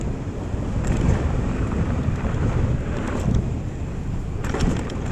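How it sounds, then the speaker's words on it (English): Loud, blustery wind buffets the microphone high up on a downhill track during enduro riding, with a constant low roar and rushing hiss, swelling in gusts throughout. "Bit windy."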